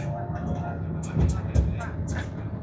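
A slow passenger train rolls along with a steady low rumble and occasional rhythmic clunks of the wheels, while a voice talks over the noise.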